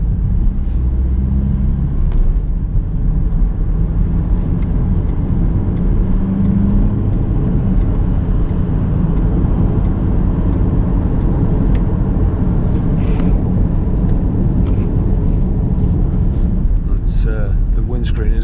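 A 2007 Vauxhall Astra 1.3 CDTi 16v Life diesel car accelerates from inside the cabin, a loud, steady low engine and road rumble with some wind buffeting throughout.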